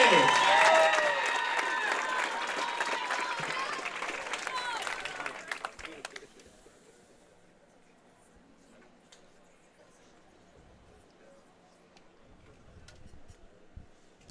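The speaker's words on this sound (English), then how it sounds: "Let's get loud, let's cheer them on." Crowd at a high school bowling singles championship in Wisconsin claps and cheers loudly for several seconds, the dense applause cutting off abruptly and leaving a quiet room with faint background murmur.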